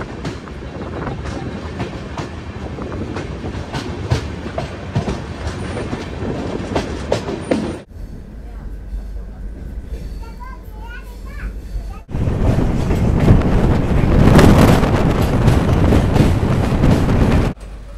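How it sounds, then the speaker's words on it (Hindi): The Trivandrum Rajdhani Express pulls out of a station, giving a loud, continuous rolling roar with rhythmic wheel clatter, a brief quieter interlude in between, then a louder surge of rushing rail noise as it gathers pace. "त्रिवेंद्रम राजधानी यहाँ से रवाना होते हैं।"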